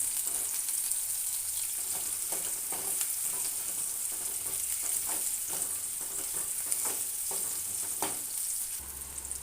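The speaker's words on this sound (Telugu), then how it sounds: "ఆవాలు జీలకర్ర వేగిన తర్వాత ఆనియన్ ముక్కలు వేస్తున్నాను చక్కగా ఆనియన్ బాగా ఫ్రై కావాలి" Chopped onion pieces fry in hot oil with mustard seeds and cumin for a bean curry, a steady close sizzle with occasional crackles and stirring scrapes throughout, no voices.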